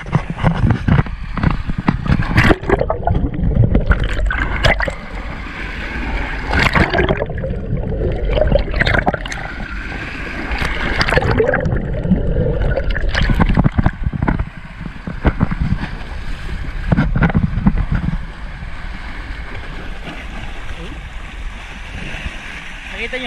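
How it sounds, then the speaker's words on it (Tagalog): Waves splash and wash ashore at Shelly Bay beach in Bermuda, a close rushing surge with wind buffeting the microphone, while a person talks intermittently over the water. "Nakita nyo hampas ng tubig."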